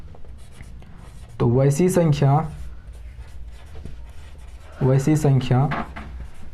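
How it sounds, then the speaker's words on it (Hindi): Chalk writing a definition on a board, a steady scratchy rubbing heard throughout at close range, broken by two stretches of someone speaking. "चलिए इसका डेफिनेशन लिखते हैं"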